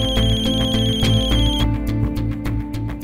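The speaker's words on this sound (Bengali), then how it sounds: "আরে ফোনটা তুলে কেন নিচ্ছিস না? কোনো কাজের ফোনও তো হতে পারে।" Mobile phone ringing with an electronic ringtone, a repeating rhythmic melodic pattern with pulsing beats, loud and close, playing alone without talk.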